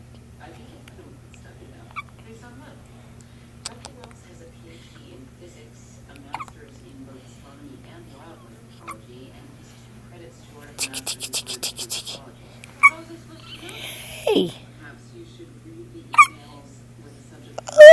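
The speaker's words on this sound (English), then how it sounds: "these are some big hiccups" Newborn baby girl hiccuping, several short faint hiccups scattered through a quiet room with a steady hum, someone talking softly and brief rustling and fussing sounds.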